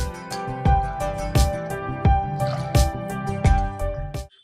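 Water splashes and drips into a pot of rice in uneven bursts, close and fairly loud, with squishy wet sounds between pours.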